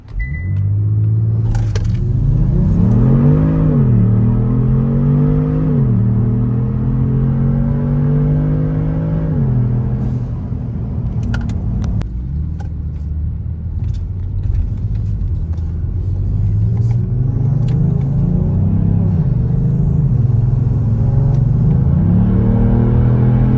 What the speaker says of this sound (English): let's wait until the traffic is gone and we'll do launch control